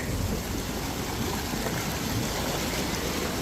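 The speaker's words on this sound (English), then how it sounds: "Water flowing out of there." Water rushing out of a breached pond side, a steady broadband roar of flowing water, close and loud throughout, with no talk.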